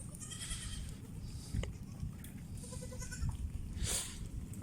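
Goats, one of them pregnant and slow-walking, bleat in short, wavering calls by the seashore at rising tide, with young kids following along, heard over steady outdoor background noise.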